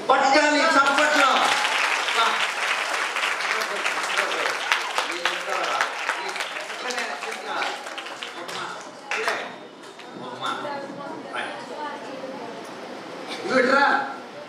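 An audience at a Christian children's retreat assembly in Jangareddigudem claps together, a dense run of sharp hand claps that starts loud and gradually thins out, with voices mixed in near the start and end.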